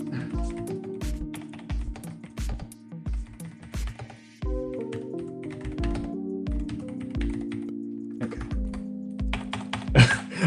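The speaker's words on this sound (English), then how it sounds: "I still can't freaking type. I feel like I'm typing worse." Crisp, fairly close computer keyboard typing comes in bursts and pauses during C++ programming, with a steady tonal music bed underneath and a sharper clatter near the end.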